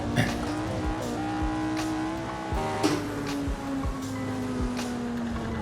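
A 1960s Formula One race car in a racing video game slides through a corner, its engine droning steadily under brief tire scrubs and bumps, with no talk.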